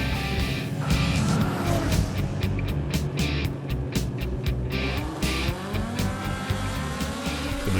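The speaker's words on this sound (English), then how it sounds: "The Madras Motorsports track signalled off the Indian touring cars Super Saloons race." Indian touring cars in a Super Saloons race at the Madras Motorsports track roar around the circuit. Tires squeal and engines blare in a dense, continuous wash of racing noise with several cars close together.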